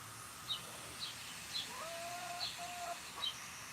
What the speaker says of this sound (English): Chickens are funny.